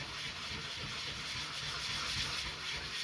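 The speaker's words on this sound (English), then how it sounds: "So I start from quite a coarse sandpaper." A violin bridge is sanded with coarse sandpaper in a violinmaker's workshop, a soft, continuous rasping hiss with gentle rhythmic swells from back-and-forth strokes, close but quiet.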